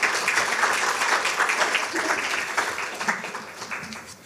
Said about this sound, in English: round of applause for the Veritas team